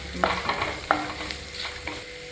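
Chopped onions with a pinch of salt sautéing in a pan, heard as a soft continuous sizzle broken by a few sharp spatula strikes and scrapes against the pan, close and quiet.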